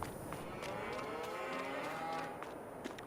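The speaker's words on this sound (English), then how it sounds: "we'll quickly show you the cows all in place" Cattle in Farming Simulator 22 moo repeatedly in overlapping calls from a settled herd, steady and fairly close, with no talking.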